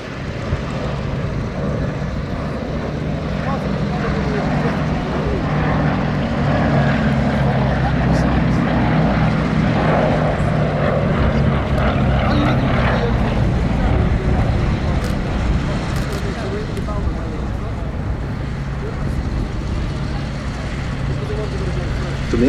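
Vintage Canadian-built propeller aircraft make a final low pass at the Duxford Battle of Britain air show, a loud, steady engine drone filling the whole stretch with a public-address voice talking over it.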